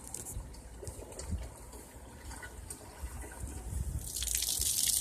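Water overspills from a sink setup with an Insinkerator garbage disposal whose spigot is not yet hooked up, splashing and dripping nearby and building to a fuller gushing flow toward the end.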